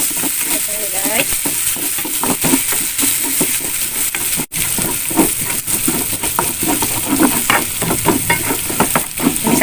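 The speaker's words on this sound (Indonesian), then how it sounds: "minyaknya sudah panas ya guys. Kita masukkan bumbunya." Spice paste for sardine semur frying in hot oil, a loud close sizzle with steady scraping and stirring strokes throughout and a brief dip midway.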